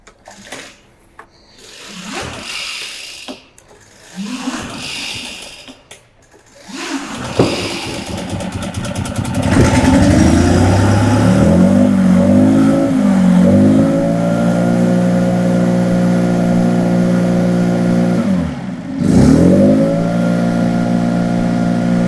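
A Stihl BR 800 C-E Magnum backpack blower is pulled through several sharp starter pulls before the engine fires, revs up, settles into a loud steady idle, then briefly surges near the end.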